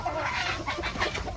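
Hens and roosters cluck steadily and close by while pecking at harvested rice grain scattered across a farm field, with busy overlapping calls and no talk.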